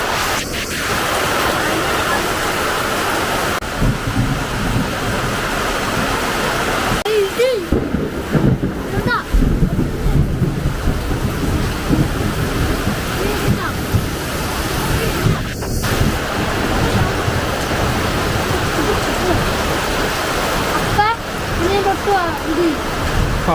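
Heavy monsoon rain in Kerala pours in a dense, steady hiss close by during a thunderstorm, with people talking under the downpour.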